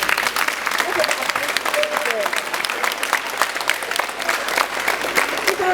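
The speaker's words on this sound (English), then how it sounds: "Come on, children, let's give all the volunteers a round of applause" Children applaud volunteers at a six-week vocational training event in Ilisan, with dense, continuous clapping from a large group sustained throughout, and some voices mixed in under the applause.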